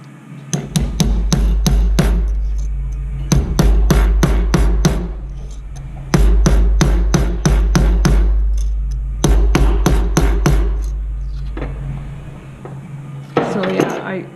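A rawhide mallet hammering jewellery metal, heavy close thuds with a metallic clink, struck in rapid runs of five or six blows separated by short pauses.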